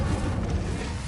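Incendio fire spell in the Hogwarts Legacy video game, a brief roaring whoosh of flame with a deep rumbling body, loud and close for about a second.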